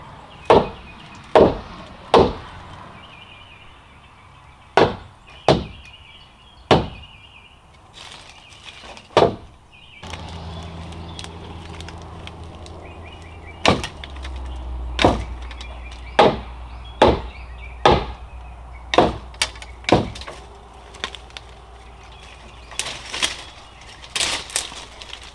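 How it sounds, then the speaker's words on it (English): Sharp, solid wooden thumps from tapping the joints of a deck's wood planking, about fifteen distinct knocks in an uneven series, close and clear, with a low rumble running underneath for the second half. "When I hear that real solid thump,"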